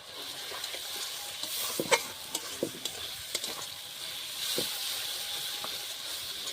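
Ginger-garlic paste with turmeric and chili powder mixed in water, frying in a pan for a Bengali mutton curry: a hissing, steamy sizzle with a run of sharp spoon scrapes and taps as it is stirred, no talk.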